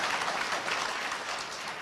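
Audience clapping at an NGOs Week 2024 event, a steady dense wash of many hands sustained throughout, fairly distant and even in level.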